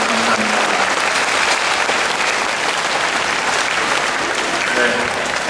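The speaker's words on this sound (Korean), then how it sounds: "감사의 박수 한 번 더 부탁드립니다" Sustained applause from an audience for a community club orchestra at a summer night concert in Seongnam, dense and steady clapping throughout without a break.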